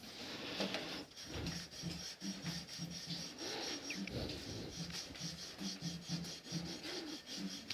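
Fine sandpaper rubbed back and forth across the wooden body of an Ibanez RG550 electric guitar, a steady close rasping scrape with regular strokes and no talk.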